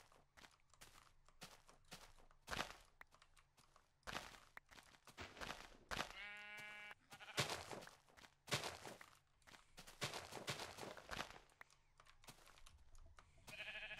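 Sheep in the blocky sandbox game Minecraft give a single clear bleat in the middle, set among crunchy footstep and block sounds that come in irregular bursts, with no voices.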